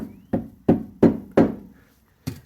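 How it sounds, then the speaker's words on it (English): Several sharp, heavy knocks from a dead blow hammer striking a metal bushing during a Mustang shock replacement, four in a steady rhythm, then a pause and two quicker blows, close and loud. "take a dead blow hammer and just whack it"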